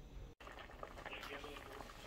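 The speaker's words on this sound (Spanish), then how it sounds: "Ya la carne aquí está hirviendo." Meat boiling in a pot while being prepared for pasteles, giving a steady, close bubbling hiss throughout with one brief dropout near the start.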